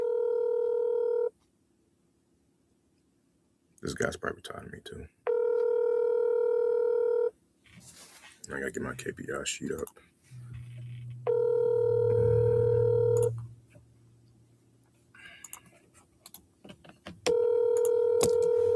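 A phone call rings out: repeated loud, steady ringback tones alternate with stretches of someone talking nearby, plus a brief low buzzing tone partway through.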